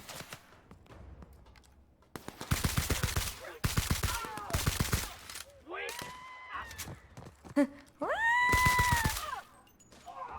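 Gunfire in the video game The Outer Worlds: several loud bursts of rapid automatic shots in quick succession, followed by whining, meow-like tonal cries, with quieter gaps between.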